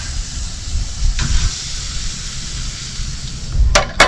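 A steady hiss from a hot pan runs throughout, fitting cheap steaks set aside to sear, with a couple of brief sharp bursts near the end.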